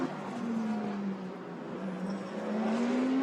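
Porsche GT race cars in a Blancpain GT World Challenge Asia 2019 race at Suzuka, with a continuous engine drone whose pitch dips and then climbs as a car accelerates, heard from a moderate distance.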